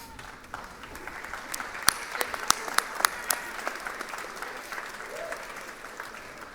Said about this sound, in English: Graduates, please stand and turn around and applaud your family and friends and others that are here that have supported you along the way.